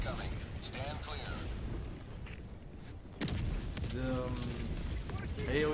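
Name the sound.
orbital barrage explosions in a video game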